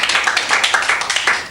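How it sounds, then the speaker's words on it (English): Applause for a guest on a radio show, a short burst of brisk, steady clapping from a small group, close and fairly loud. "a round of applause for the Greek god"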